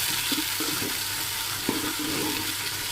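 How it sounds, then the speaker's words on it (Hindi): Onions frying in hot ghee in a pan while aloo chicken is cooked, making a continuous, fairly loud sizzling hiss with small crackles and a few stirring knocks. "प्याज को अच्छे तरीके से फ्राई करना है।"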